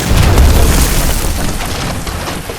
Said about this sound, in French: il a explosé la roche sans problème